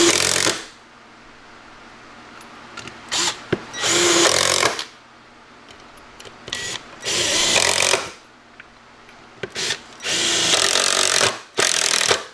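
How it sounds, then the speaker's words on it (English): A power drill countersinks holes in wood in several short, loud whirring bursts with quiet gaps between them, close by, and no talk. "I'll just countersink these other two."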